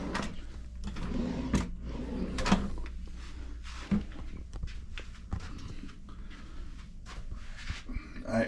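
Repeated wooden knocks and sliding thuds as drawers are pulled open and pushed shut in a cruise ship interior stateroom on Quantum of the Seas, with scattered clicks and faint background noise throughout.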